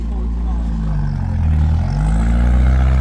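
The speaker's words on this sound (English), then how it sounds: "Listen to that exhaust." A GAZ Volga's engine and exhaust rumble low and throaty at a classic car show, the deep burble rising as it revs up, close and loud, with talk underneath.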